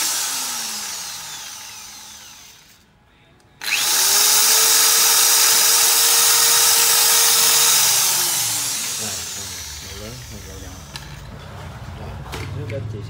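Power drill boring through plastic pipe for a home sprinkler system: a loud, steady whine that holds for several seconds, then winds down into grinding and rattling as the bit works through, with someone talking.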